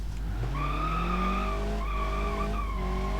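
A blue car skids in BeamNG.drive, a video game, with loud sustained tire squeals in several rising and falling sweeps over steady engine rumble, up close and with no voices.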